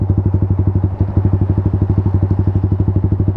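Motorcycle engine running at low RPM around 4000 during AFR tuning on Pertamax Turbo fuel, a steady loud, rapid pulsing thump that holds an even rhythm throughout, close to the microphone, with no talking.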